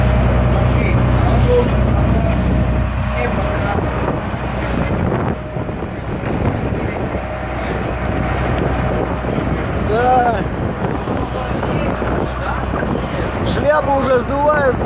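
Strong wind rushes and buffets the microphone on a boat on the open ocean off Hawaii, with a low rumble throughout and brief voices near the end.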